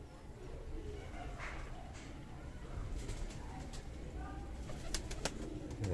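High-flying pigeons kept as a breeding pair, a few soft low coos rising faintly from a steady background rumble, with brief light rustles and taps nearby and someone talking over them.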